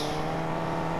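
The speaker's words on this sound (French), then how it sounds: "Je contrôle ta voiture, Gatom" A car engine in the Fortnite video game gives a brief, steady hum with a sustained low tone, moderately quiet and heard without talk.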